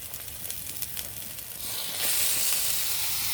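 Farm-raised broiler chicken pieces added to well-fried spice paste in a little oil, sizzling close and loud, with a few spoon scrapes early before the hiss swells into a steady, stronger fry, no voices.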